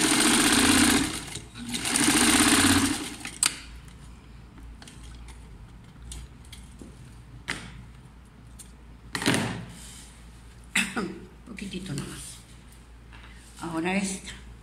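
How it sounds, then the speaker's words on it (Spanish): A sewing machine stitches a skirt seam back together in loud bursts of rapid running, then shorter start-stop runs with pauses, near and clear, while someone talks in between. "Le vuelve a coser lo que le descosió."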